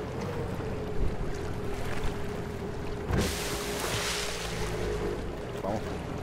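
A motorboat in the Battlefield 4 video game gives a steady, droning engine hum with rushing water and wind noise throughout, plus a brief splashing surge partway through.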